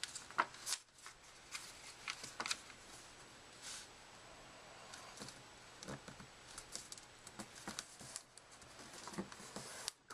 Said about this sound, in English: now we're going to fold another valley fold in the center of what we just folded to get this edge